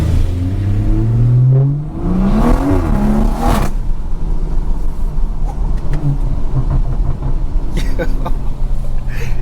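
A BMW 340i with a B58 engine and a loud aftermarket exhaust revs hard, rising and falling in pitch through sweeping pulls, then settles into a rough, loud rumbling drone while a voice speaks briefly.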